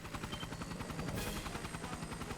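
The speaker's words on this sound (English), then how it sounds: "he's gonna summon a helicopter" A summoned helicopter, the Pale Apache flying orbital puppet in Trails in the Sky SC, beats its rotors in a steady rapid thump that swells briefly midway and keeps a constant loud drone throughout.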